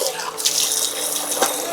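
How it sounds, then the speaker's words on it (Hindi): Cold mountain waterfall water on the trek from Gaurikund to Kedarnath splashing and gurgling steadily as a bottle is filled, a close, continuous rush with no pauses. "तो दोस्तों एक वाटरफॉल मिल गया है और पहाड़ों का शुद्ध पानी है, मिनरल वाला।"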